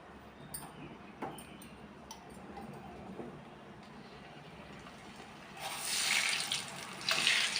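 Sweet batter goes into hot oil in a kadai. Quiet ticking and clinks give way about two-thirds through to a sudden bright, loud sizzle that swells and keeps going to the end.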